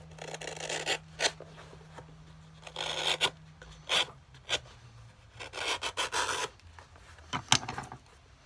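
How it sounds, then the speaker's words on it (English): A leather outsole on a Florsheim-style welted shoe is sanded to narrow its shape, giving close, uneven bursts of dry rasping and rubbing separated by short pauses. "after trimming with a knife, I'm going to sand it, give it a narrower shape."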